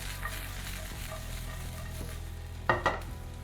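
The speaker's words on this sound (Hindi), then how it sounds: "अब सारी सब्जियां डाल देंगे थोड़ी थोड़ी और 2-3 मिनट के लिए इनको भी भूनेंगे।" Mixed vegetables stir-fried over high heat in a pan for veg Manchurian, a steady close sizzle with a couple of sharp utensil scrapes near the end.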